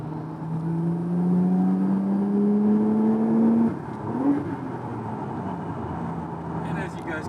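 A Nissan Skyline R34 GT-R with an RB25 engine revs up in one long rising pull, then drops back to a steady idle with a short blip, heard close outdoors at a car dealer lot in Japan.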